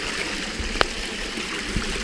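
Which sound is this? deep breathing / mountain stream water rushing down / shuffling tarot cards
mountain stream water rushing down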